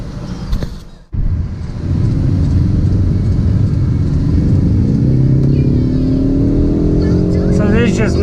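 A 2017 Ford Mustang EcoBoost Premium accelerating in normal drive mode: a steady engine drone that climbs in pitch as it picks up speed, heard from inside the cabin, with a brief dropout near the start.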